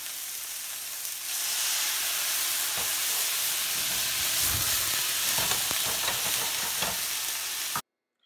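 Steaks sizzle loudly in a pan as they are flambéed with brandy, giving a steady broad hiss that swells after the first second, with scattered clinks and stirring, until the sound cuts off abruptly.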